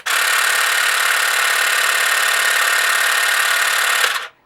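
A Tekhmann TCGT-8/I20 cordless 3-in-1 grass trimmer runs at its second speed setting, giving a loud, steady whirring motor drone for about four seconds before cutting off abruptly.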